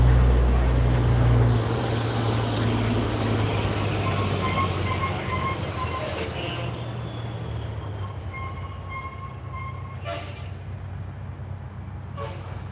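CSX freight train I155 led by locomotive 911 rolls past toward Stevenson, a loud, close rumble of the diesel and wagons that fades gradually as the cars keep clattering by, with some faint squeals over the last seconds.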